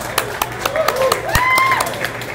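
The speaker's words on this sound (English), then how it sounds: "Let's get some applause going" Applause from the crowd at a SecKC security meetup in Kansas City, a light scattering of claps mixed with cheers and chatter, moderately close.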